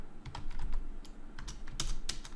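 Quiet, irregular keystrokes clatter on a computer keyboard, with a few short bursts of typing and brief pauses between taps.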